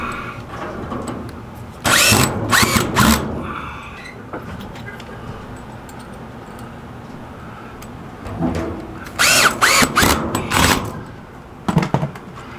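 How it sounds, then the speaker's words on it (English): A power drill in use during hand cleaning of an HVAC return air duct whirs in short loud bursts, two clusters of several pulses each plus a brief final burst, over a low background hum. "Need a new chuck for my drill, I guess."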